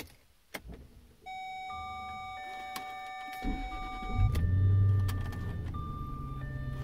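Jaguar car engine cranking over and catching, then settling into a low, steady rumbling idle heard from inside the car, preceded by faint clicks and key sounds, with no talking.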